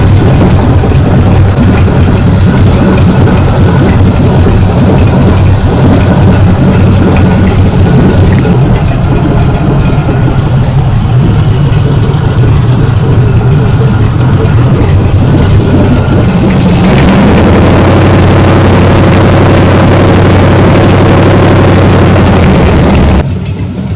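A car engine runs steadily for a long stretch while it warms up on a heat cycle during a radiator rust-cleaning treatment, giving a loud continuous low rumble whose tone shifts lower and smoother near the end before cutting off.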